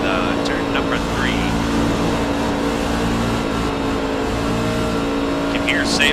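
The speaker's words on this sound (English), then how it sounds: "You can hear Sable getting out of the gas, trying to save the truck" Racing truck engine on the Pocono oval as the driver lifts off the throttle, a steady loud motor drone with engine harmonics under continuous race commentary.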